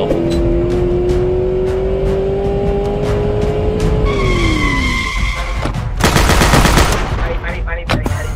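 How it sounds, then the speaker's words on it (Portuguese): Rapid gunfire bursts in the GTA MTA RP video game, loud crackling shots erupting over a revving car engine and screeching tires near the end. "vou meter bala nesse cara"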